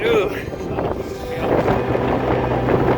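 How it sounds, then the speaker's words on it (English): Wind buffets the microphone in a steady, rumbling roar, with muffled voices underneath. "it's a little windy out here."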